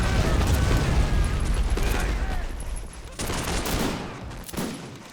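Musket volleys in the Born in the Fire mod, a dense ragged crackle of gunfire rolling loud and close at first, then fading into scattered later bursts.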